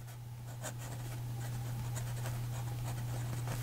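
A fine-nibbed Parker 51 fountain pen writes on paper, giving faint, soft scratchy strokes close by over a steady low background hum.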